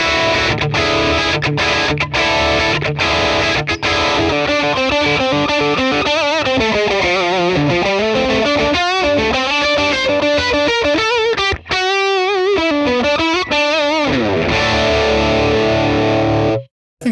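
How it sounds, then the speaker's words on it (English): A Les Paul electric guitar played through a 1966 Fender Bassman amp tone, loud and distorted, with sustained lead notes, bends and fast runs ringing continuously, then cutting off at the end. "So let's try this one also with a Les Paul, because I can imagine this would sound awesome."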